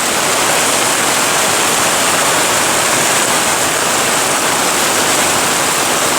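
Steady, loud rush of water pouring from a spring well, a dense continuous broadband flow with no breaks, heard close up and alone with no voices.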